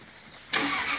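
A Jaguar XK8 V8 convertible coupe engine catches midway through a brief moment of quiet, jumping into a loud, broad rumble that holds steady to the end.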